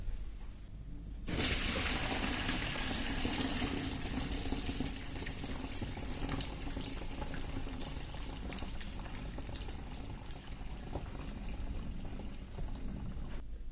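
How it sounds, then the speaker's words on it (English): Cooled beer wort pours steadily into a sanitised fermenter, a continuous soft splashing and gurgling stream that starts after a brief pause and runs on, fairly quiet, with no talking. "So I will now transfer that to our sanitised fermenter."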